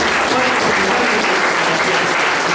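Dense, steady applause from a crowd at a community council swearing-in ceremony, loud and unbroken across the whole stretch.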